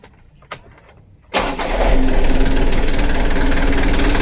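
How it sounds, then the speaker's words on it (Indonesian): A new car's engine cranks and catches after a couple of soft clicks, then settles into a loud, close, rough idle with a knocking, jerky undertone. "Untuk mesinnya sudah hidup teman-teman"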